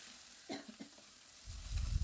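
Finely chopped medium tomato with a little salt sautéing in a pan: soft sizzle with a few scraping stir strokes, then a louder burst of frying toward the end, close by with no talk.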